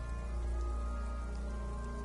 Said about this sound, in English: It's raining outside, light drizzle.